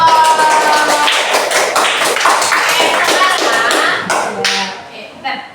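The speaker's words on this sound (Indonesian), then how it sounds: "Oke, tepuk tangan untuk semua kelompok." A primary-school class claps for all the presentation groups after a lesson on animal life cycles, with scattered, uneven taps from a roomful of children at close range and some chatter mixed in.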